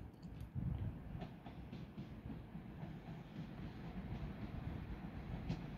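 Northern Ireland Railways 4000 class diesel multiple unit at Castlerock station, a steady low rumble of the train with faint rail clatter, continuous and fairly close, with no talk.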